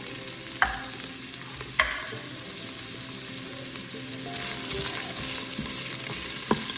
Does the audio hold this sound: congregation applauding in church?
no